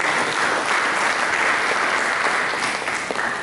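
A church congregation claps steadily at a Sunday service, a dense, even wash of applause filling the room with no pauses.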